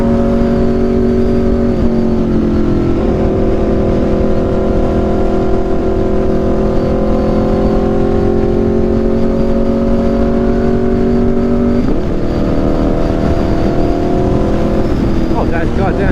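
Aprilia RSV4 motorcycle fitted with an SC-Project exhaust, a steady loud engine drone holding pitch with gear-change steps, recorded from close by while riding, with a voice talking over it.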